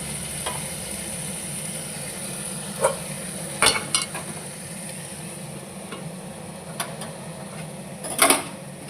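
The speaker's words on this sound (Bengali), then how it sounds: "মশলাটা কষছে এদিকে চর্বিগুলা তুলে নিয়েছি আর এই যে মাংস মাংসগুলা দিয়ে দেব" Mutton and spice masala fry in a pan with a continuous low sizzle, broken by several sharp scraping knocks as the mixture is stirred, and no voices.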